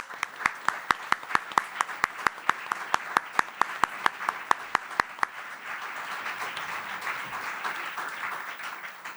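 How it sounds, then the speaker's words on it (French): Studio audience on a French television news show applauding a new columnist: crisp rhythmic clapping in unison at first, then loosening into a softer, scattered round of applause that fades toward the end. "Un tonnerre d'applaudissements pour Charlotte Belaïch."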